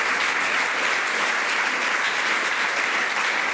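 Studio audience applauds a guest on a television talk show: dense, steady clapping that fills the whole stretch at an even level without letting up.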